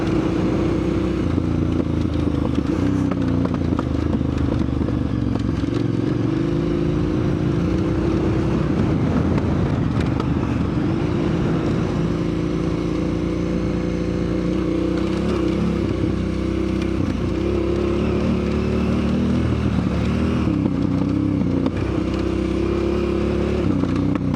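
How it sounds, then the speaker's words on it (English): A loud, continuous 990 motorcycle engine burbling and popping under engine braking as it decelerates on Volunteershoek Pass, with throbbing exhaust tones and wind noise throughout. "that sweet, sweet 990 engine braking."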